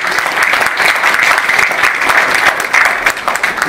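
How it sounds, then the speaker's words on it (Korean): Warm, dense audience applause fills a church-hall auditorium at a civic movement's founding ceremony, loud and steady for a few seconds without speech over it. "마음으로 뜨겁게 한번 박수 드립니다."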